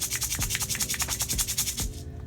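Rhythmic swishing shakes of glitter in a sensory jar, a steady rattling pulse for about two seconds before fading out.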